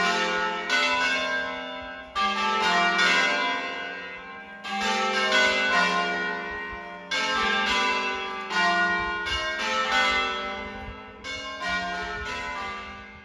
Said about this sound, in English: the bells have just come to say hi